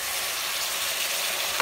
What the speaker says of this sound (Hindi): और चिकन को भी साथ में फ्राई करना है